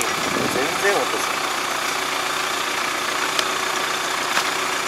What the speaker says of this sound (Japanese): エンジン音しかせ ない。